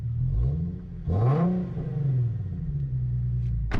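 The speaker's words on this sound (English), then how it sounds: "Time to start her up. And yeah, there's the catback exhaust I was talking about." An Infiniti Q50 3.7 engine with a throaty catback exhaust idles low, then revs once sharply and settles back into a deep, steady burble.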